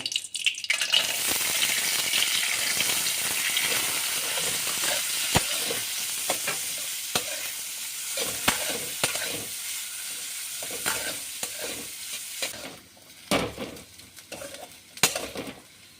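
Vermicelli frying in a spoonful of hot ghee in a heated wok with bay leaves, a steady loud sizzle broken by scraping stirs and clinks of a spatula against the pan, easing toward the end.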